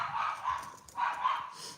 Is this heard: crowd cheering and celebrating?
no